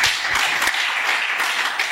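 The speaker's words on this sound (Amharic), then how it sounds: "አጨብጭቡ ለጌታ።" A church congregation at a live worship service claps together for the Lord, a dense, steady wash of many hands that stays loud and even for about two seconds.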